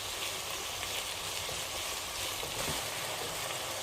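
Vegetables sizzling and frying in a pan over a high flame, a steady bright crackle of hot oil with scattered pops, close and continuous without pause.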